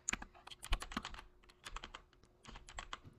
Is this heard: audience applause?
no